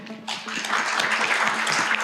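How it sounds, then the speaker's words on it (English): Audience applause at a property business talk swells in after a brief quiet start, then carries on as a steady, moderately loud patter of clapping. "Round of applause, my man."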